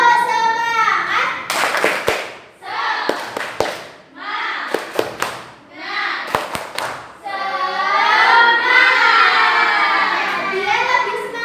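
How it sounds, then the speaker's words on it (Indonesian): An Indonesian classroom does a rhythmic spirit clap: short, sharp bursts of group clapping alternate with children chanting in unison, ending in a longer stretch of sung voices. "Tepuk semangat dulu ya."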